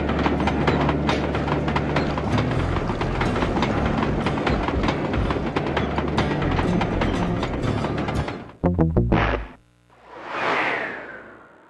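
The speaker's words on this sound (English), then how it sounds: "Sly, the second iron horse train is coming too fast." A train in the video game Sly 2: Band of Thieves rumbles loud and steady with a rhythmic clatter, then breaks into choppy bursts before a final whoosh swells and fades.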